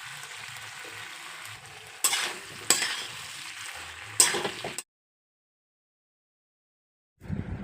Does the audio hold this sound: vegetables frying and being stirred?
yes